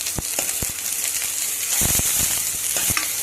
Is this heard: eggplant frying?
yes